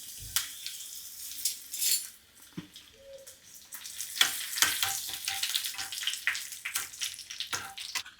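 Fried mustard seeds, curry leaves and split dried chillies being stirred into kichadi in a pan, with bursts of crackling sizzle and repeated scraping stirs, loud and close.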